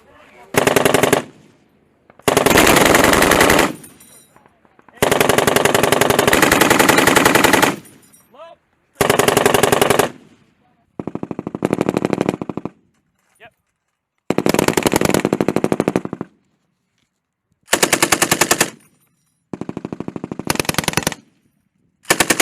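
M240B and M249 light machine guns firing live at a military combat arms training range at Yokota Air Base, Japan: close, loud bursts of rapid automatic fire of varying length with silent gaps between, and no voices.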